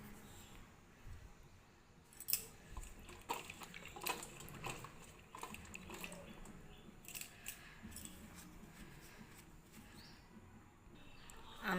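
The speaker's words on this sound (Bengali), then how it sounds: "জামরুলগুলো ধুয়ে নিই একটু।" Jamrul (rose apple) fruits being rinsed in water at home, with soft splashes, light knocks and clatter that come and go at close range, and no talking.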